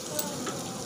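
Onion and green chilli fry in mustard oil inside a pressure cooker, giving a steady close sizzle with a faint crackle and no talking.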